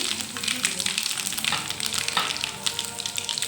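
Chillies sizzle and crackle in hot oil with mustard seeds while puliyogare is being prepared, a dense, steady frying hiss with small pops and brief stirring scrapes, close and moderately quiet.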